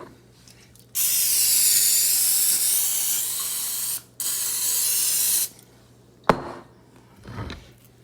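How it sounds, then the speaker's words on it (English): Two long, loud hissing bursts of aerosol cooking spray, each several seconds, separated by a short pause, followed by a couple of brief rustles. "Now I'm going to spray."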